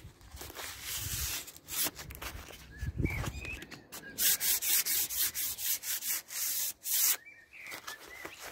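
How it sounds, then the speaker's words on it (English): Hand sanding of wrought iron with P180 sandpaper before painting, a scratchy rubbing that comes in repeated close strokes with brief pauses between them, steady and fairly loud with no talking. "Give it a light sand the best you can."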